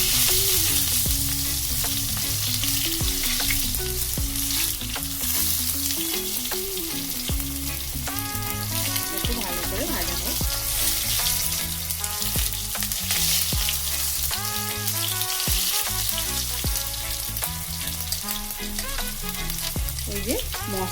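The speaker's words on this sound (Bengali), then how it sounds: "ভালো করে আমি এটা একটু ভেজে নেব। নিয়ে জিরেটা দিয়ে দিলাম, আর এই যে টমেটোটা দিয়ে দিলাম।" Cumin seeds and tomato frying in a hot pan, a loud steady sizzle with crackles and stirring scrapes running without pause, no talking.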